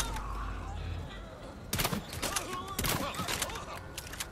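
Gunshots in Resident Evil 4, with two or three sharp, loud cracks in quick succession over a low ambient game drone, and a player talking at times.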